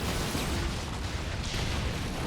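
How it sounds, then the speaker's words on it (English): Ship explosion in the naval combat game Skull and Bones, a loud sustained rumbling blast with broadband roar and no clear separate hits, heard alone without talk. "Damn explosion."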